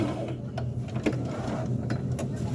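A sewing machine stitches the shoulder seam of a burial gown, a quiet, continuous mechanical whirr with light rhythmic ticks from start to finish.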